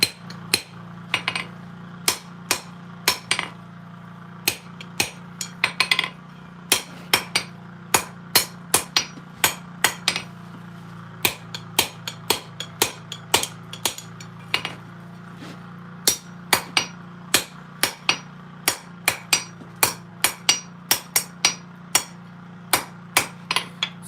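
A hammer upsets a long heat of hot steel while tongs are being forged, landing sharp ringing blows in quick irregular bursts on the anvil, loud and close, with no talk.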